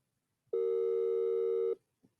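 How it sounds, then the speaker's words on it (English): A telephone call rings out unanswered, heard as a single steady electronic tone lasting just over a second, clear and isolated against near silence, followed by a faint brief blip. "Somebody answer the phone."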